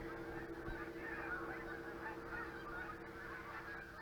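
Wild geese honk overhead as a migrating flock passes over hazelnut trees, a steady chorus of calls, fairly faint and distant, over continuous outdoor background noise.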